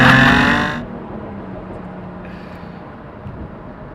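A 2016 Jaguar F-Type's engine roars loudly with its sport exhaust open, a dense blast for under a second that drops abruptly to a low steady idle rumble.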